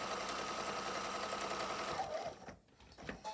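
A sewing machine stitches a quarter inch in from the edge of a fabric mask, running in a fast, even mechanical whir for about two seconds before stopping, with faint handling noises after.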